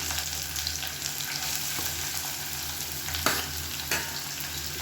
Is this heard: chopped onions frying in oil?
yes